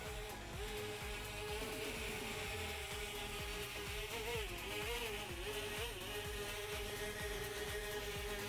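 A small Xiaomi MITU quadcopter drone lifts off and hovers nearby, its rotors making a continuous buzzing whine that wavers slightly in pitch, fairly faint and steady, with no talk.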